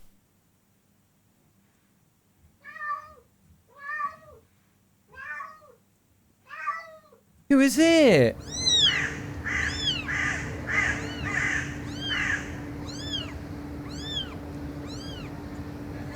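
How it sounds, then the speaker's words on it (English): A cat meows four times in a quiet room, evenly spaced and close, then a louder burst of overlapping meows and bird-like caws from speakers follows. A voice briefly asks a question. "He loves the sound of other cats."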